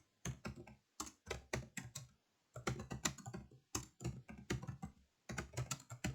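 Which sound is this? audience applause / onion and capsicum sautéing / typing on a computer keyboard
typing on a computer keyboard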